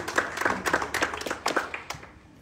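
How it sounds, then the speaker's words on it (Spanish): Applause from a congregation at a festival mass in a church, a fairly faint, brief patter of clapping with irregular hand claps spread across the moment. "Fuerte el aplauso para todos"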